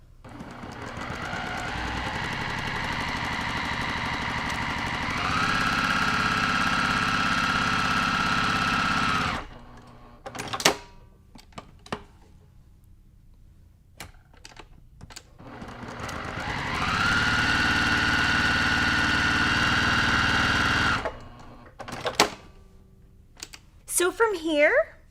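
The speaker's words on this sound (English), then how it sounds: "I'm going to be using an open toe foot, and we're just going to sew on those lines." A sewing machine fitted with an open toe foot stitches along lines on quilt fabric. It makes two long, steady runs of humming, separated by a quiet pause with scattered clicks and handling noises.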